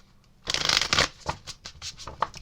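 Tarot cards are shuffled by hand during a reading, a loud close riffle burst followed by a run of lighter, irregular slaps and flicks as the deck is worked.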